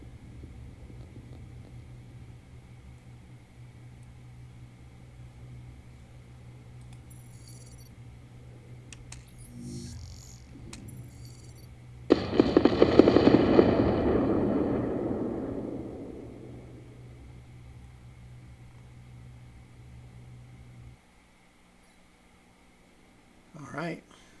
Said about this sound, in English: Kaboom goes the small ship.